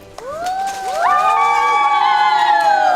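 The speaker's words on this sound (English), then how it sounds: "Please clap for yourself." A crowd at a robotics competition cheers and shouts loudly, with high-pitched children's voices rising and sustained over scattered applause, the noise swelling after a sharp start and holding steady.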